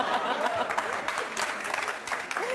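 A live audience at an interview with actors breaks into thunderous applause, dense steady clapping throughout, with some voices and a laugh rising through the crowd.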